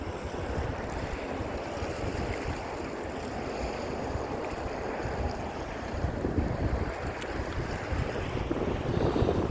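Strong current of the Dnipro river at high spring water, heard from the embankment as a steady, dense rush of moving water mixed with wind buffeting the microphone, continuous throughout and swelling slightly toward the end.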